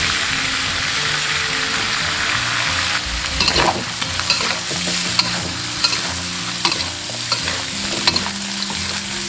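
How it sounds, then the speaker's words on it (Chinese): Star anise stir-fries in a wok with lamb and a splash of strong baijiu, a loud continuous sizzle with rhythmic scraping and stirring clatter, no voices. "像这样大料炒香过后"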